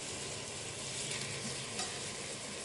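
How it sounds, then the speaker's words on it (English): Beef and chorizo sizzle in a heavy pan on a wood stove, a dense and steady frying hiss with soft crackles and stirring scrapes, close but fairly quiet, with no talk. "And now I'm going to put in my beef and chorizo."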